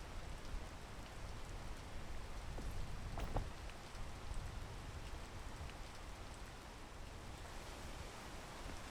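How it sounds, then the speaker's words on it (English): Steady rain falls in a video game, a soft, even hiss of drops that carries on without pause, with a few faint brief ticks and knocks rising briefly above the wash. "Oh my god, the rain."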